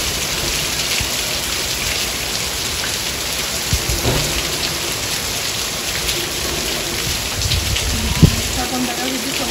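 A sudden heavy monsoon downpour with gusting wind, a dense constant roar of rain on surfaces, with low thunder rumbles in the distance and a sharper crack near the end.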